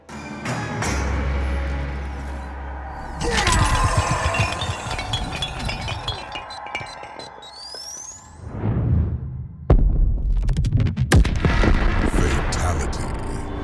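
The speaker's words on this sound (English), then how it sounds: "the opponent's "No!" can be heard right before the explosion" Explosion finisher from the Mortal Kombat 1 fighting game, with a loud blast and burst of crashing effects in the middle, surrounded by whooshes, impacts and game music.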